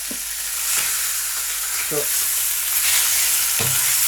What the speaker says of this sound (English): you want to get the fat out of that pork. So you're rendering the fat down